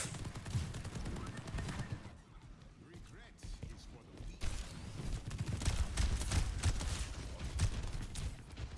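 Gunfire from Torbjörn in Overwatch 2, a steady stream of rapid shots and impacts layered over busy game noise and a voice talking throughout.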